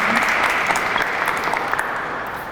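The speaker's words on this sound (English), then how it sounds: "So I want a round of applause, y'all." Dense round of applause from a crowd at a Fair Housing Month celebration, steady and full for the whole stretch, with a few louder claps standing out and no speech over it.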